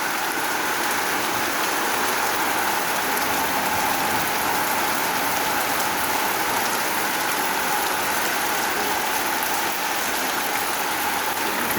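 Steady monsoon rain pours down in rural Bangladesh, a dense, even hiss of drops on surfaces that holds one level with no pauses and no voices.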